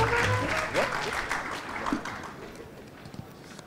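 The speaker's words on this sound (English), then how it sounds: "please, a round of applause for Book Me" Audience applause at a startup pitch competition in Jakarta, loud at first and then fading away over a few seconds.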